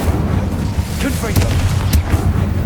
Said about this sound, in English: Confringo! Bombarda! Incendio!